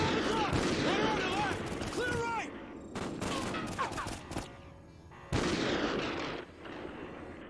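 Close, rapid gunfire bursts crack repeatedly during a Call of Duty: Ghosts campaign mission, with sharp shots and rattling volleys mixed with in-game voices and combat clutter, then a sudden loud blast midway.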